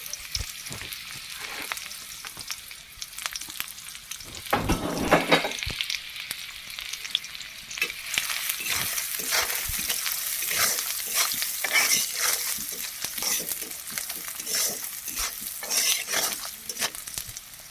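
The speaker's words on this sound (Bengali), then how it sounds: "এটা সয়াবিন তেল দিলাম তেল গরম হয়ে গেছে পেঁয়াজ কুচিগুলো দিয়ে দিচ্ছি" Chopped onions hitting hot soybean oil in a pan, a loud crackling fry with repeated stirring scrapes that grow busier and denser partway through, no voices.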